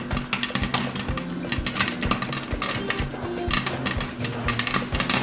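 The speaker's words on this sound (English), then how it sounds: "So the popping has slowed down." Popcorn popping in a covered pot on the stove, a dense run of sharp close pops and kernel ticks against the metal over a continuous low hiss, no voices.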